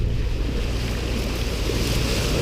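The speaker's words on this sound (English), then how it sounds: "the waves are building up from the whole Kattegat and down here" Sea waves and gusting wind surround a sailing boat running before a northerly wind on the Kattegat, a steady loud wash of surf and wind noise with no talk.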